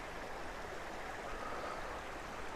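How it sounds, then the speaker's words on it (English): A forest stream with small waterfalls gives off a steady, even rush of flowing water, broad and unbroken, heard close by with no other sounds over it. "I wanted to get a good look at the stream."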